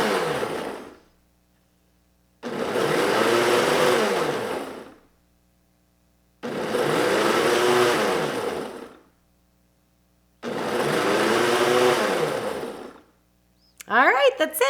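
A countertop blender on its smoothie setting, mixing pineapple sweet and sour sauce, runs in three loud, steady bursts of about two and a half seconds each, separated by short silences, with a final burst starting at the end.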